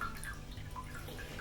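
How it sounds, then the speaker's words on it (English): Coconut water poured out of a container, heard as a faint, steady trickle with soft dripping spatters throughout. "the way you make this is you dump out the coconut water"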